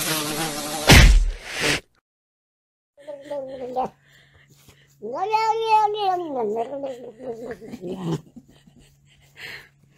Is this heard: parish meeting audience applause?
no